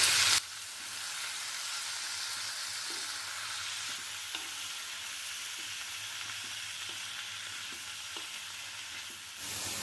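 Gongura leaves and chicken sauté in hot oil in a pan for gongura chicken, giving a steady close sizzle broken by soft stirring scrapes, with no voices.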